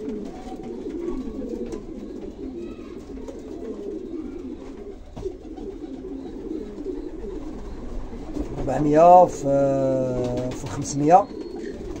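Racing pigeons coo near the end, a few rising warbled calls that follow steady talk from someone speaking Arabic, with a low background hum throughout.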